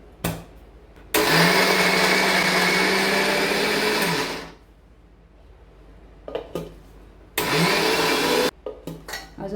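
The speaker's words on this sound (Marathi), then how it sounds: "कोथिंबीर, हिरव्या मिरचीची पेस्ट आहे ती घालायची. हळद, गरम मसाला, मीठ. मिक्सरला फिरवून घ्यायचे." An electric mixer grinds a paste of coriander, green chilli, turmeric, garam masala and salt in two loud, steady whirring bursts, the first about three seconds long and the second shorter, with clatter and handling between them.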